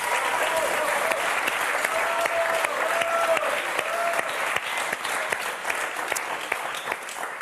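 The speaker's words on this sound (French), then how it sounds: "Est-ce qu'on vous a applaudi," Studio audience on the French game show Motus applauds loudly and steadily throughout, a dense continuous clapping with faint tonal studio sounds underneath.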